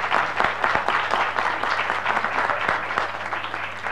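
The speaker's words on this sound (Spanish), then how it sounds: "Les vamos a recibir con un fuerte aplauso" Hands clap warmly for panelists at an internet governance forum session, a moderately loud, continuous ripple of applause from a seated audience lasting around four seconds, with a faint low hum beneath.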